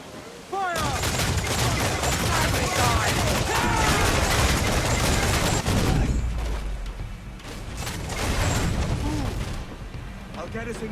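Ship cannons firing in the Assassin's Creed 4 Black Flag video game, a dense, loud barrage of booms and blasts rolling continuously for several seconds with crew voices shouting amid the chaos.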